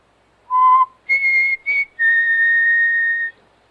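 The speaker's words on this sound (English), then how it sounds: "I just whistled." A person whistles four clear notes: a short low tone, two brief higher tones and then one long sustained high tone, close and alone against near silence.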